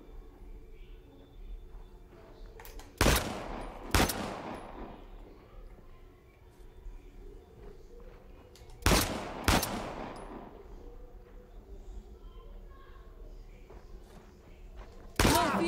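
Gunfire in Uncharted: The Lost Legacy rings out in sharp pairs of loud shots spaced several seconds apart, over a quiet ambient background.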